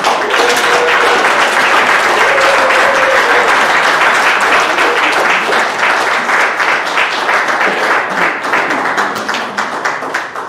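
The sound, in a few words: audience applause at a church service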